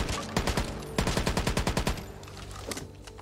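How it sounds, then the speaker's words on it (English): Rapid automatic gunfire from weapons in the video game Back 4 Blood hammers out in two dense bursts, then slows to scattered shots, loud and close with no voices over it. "Let's try shooting the dude at the back."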